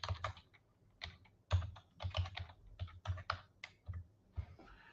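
Rapid bursts of typing on a computer keyboard, close and clear, with irregular clusters of key clicks and short pauses between them, no talking.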